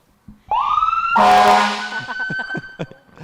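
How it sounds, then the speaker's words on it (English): A siren wails up loudly and sustains with a blaring horn-like tone, then breaks into short honks and whoops that trail off. "I think we need some sirens for that"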